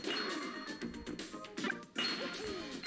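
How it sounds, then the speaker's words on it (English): Targets shattering in Super Smash Bros on the N64, a steady run of loud crashing smashes and thwacks piling up over busy game sound, with a short dip near the end before the crashes resume. "You just basically got to try to break the targets as fast as you can"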